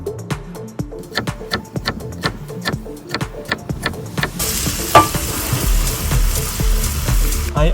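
Dandelion roots fry in a pan, with rhythmic scraping stirs tapping regularly at first before a louder, dense sizzle takes over near the end.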